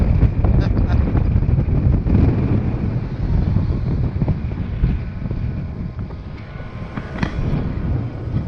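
Strong wind buffets the microphone during a recumbent bike ride along the T Gap Trail, a steady, loud roar with gusting surges that continue without a break.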